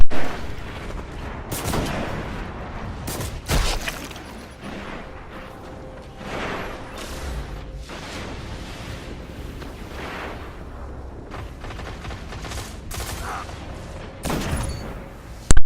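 Gunfire from the video game Destiny, including sniper rifle shots, comes as repeated loud, sharp bursts at irregular intervals over a continuous mid-level background of game noise.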